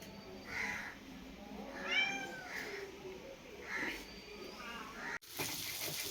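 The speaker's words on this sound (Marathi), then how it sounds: "मांजरा बघा, आमची मांजरा" Several cats meowing outdoors beside a wood-fired stove where fish is frying, giving a series of plaintive, rising meows at moderate distance, with a brief cut near the end.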